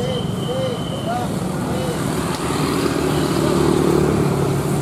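Diesel bus of the PO Mujijaya line, route RE03 bound for Jepara, pulls in at a roadside bus agency in Ciledug, its steady engine rumble growing slightly louder near the end amid street noise and scattered chatter.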